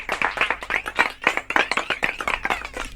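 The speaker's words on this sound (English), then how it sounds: "I'll let the applause die down" Studio applause and clapping on a post-show broadcast, a dense burst of many hands clapping close and loud, filling the moment before a joke is told.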